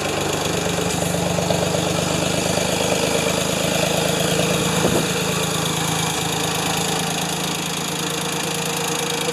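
A Ford 2600 tractor engine runs loud and steady at idle with a dense, rapid rumble while the hydraulic lift is raised, close and without talk.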